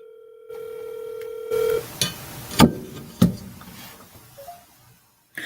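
A phone plays a steady dial tone, then a few short dialing beeps and soft knocks as a call is placed, followed by quiet line noise and a faint tone near the end.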